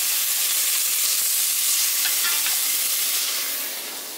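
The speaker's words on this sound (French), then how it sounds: "Ça, c'est les poivrons qui s'en vont avec les oignons bientôt, que je devrais brasser d'ailleurs" Bell peppers and onions fry in a pan with a loud, dense sizzling hiss close up, stirred now and then, easing slightly at the very end.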